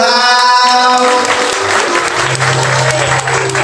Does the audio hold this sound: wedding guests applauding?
yes